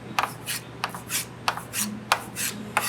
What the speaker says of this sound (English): A chef's knife is beveled in such a manner that you would cut down and through like this, down and through.